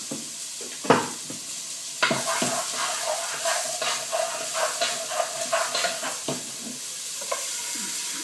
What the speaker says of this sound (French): Je mets mes oignons. Et là maintenant, je les fais revenir.